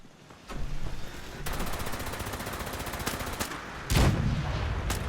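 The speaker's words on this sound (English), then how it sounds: "it's shooting off artillery out there" Distant artillery fire in Fallout 76, heard as a few heavy booming shots with rumbling tails over a steady rattling background of gunfire.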